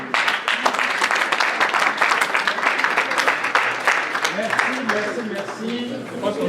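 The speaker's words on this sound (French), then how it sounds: "En tout cas, nous acclamons." A congregation at a dowry ceremony applauds, with dense sustained clapping and crowd noise that fades toward the end as voices begin to rise.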